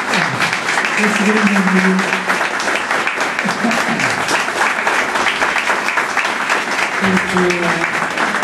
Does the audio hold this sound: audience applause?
yes